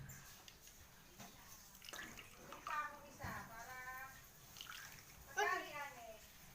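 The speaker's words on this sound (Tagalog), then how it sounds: "We are about to pour this here in the container." Juice or water being poured into a popsicle container, with soft trickling and splashing bursts in short runs, fairly faint, under a child's and others' talk nearby.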